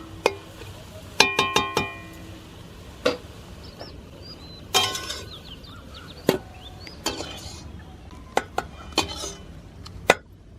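A metal pot of cooked drumstick leaves and lentils is handled and lifted off the stove in a village kitchen: sharp clanks and knocks of metal and utensils, spaced irregularly, close by with no talking.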